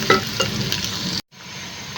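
Onion, ginger and garlic paste hitting hot cooking oil, giving a loud, close sizzle with stirring noise that cuts out abruptly, then returns as a quieter steady frying hiss.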